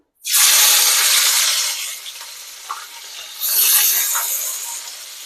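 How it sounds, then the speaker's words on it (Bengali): Onions dropped into hot oil in a wok on a gas stove burst into a loud, broad sizzle that eases off, then surges again mid-way as they are stirred, with a few clinks and no talking. "চলো তেলের মধ্যে পেঁয়াজটা দিয়ে দিই"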